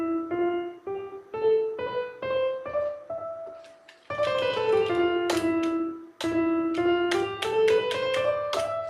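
A melodic line of plucked or struck pitched notes steps through a Phrygian scale on E. It starts as a single voice, then continues with fuller, richer sustained tones and sharp attacks, close and clear with no talking.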